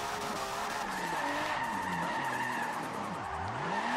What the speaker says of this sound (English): See if it'll do some nice burnouts and donuts.